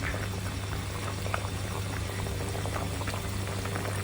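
Beef paye frying in melted ghee over a high flame, giving a steady close bubbling sizzle with soft crackles, heard alone without speech.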